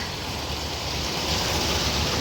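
Continuous broadband rush of a waterfall in a resort lounging area in Alanya, Turkey, a loud, steady wash of falling water with a slight swell partway through and no talk.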